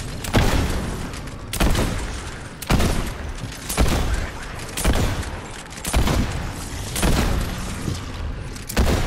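Bomb blasts in the video game Fortnite, seven or eight heavy booms spaced about a second apart, each with a sharp onset and a rumbling tail, loud and close with no talking.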